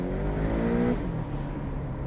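A 2019 Porsche 718 Boxster 2.0T with sports exhaust accelerates with a rising throaty exhaust note, then settles into a steady lower drone as it cruises.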